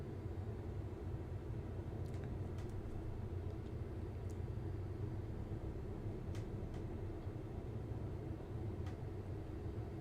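The Spruce Goose flying boat in Microsoft Flight Simulator, its engines voiced much like a jet, passes as a steady low droning rumble with a few faint clicks on top and no speech.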